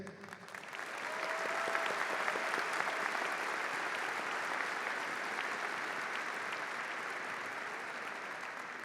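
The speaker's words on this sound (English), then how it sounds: "Please join me in applauding our distinguished guest." Commencement ceremony audience at Eastern Connecticut State University breaks into sustained, dense applause for distinguished guests, building within a second and holding evenly for several seconds in a large hall.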